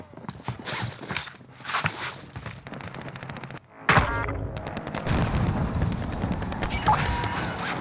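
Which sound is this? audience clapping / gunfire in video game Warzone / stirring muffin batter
gunfire in video game Warzone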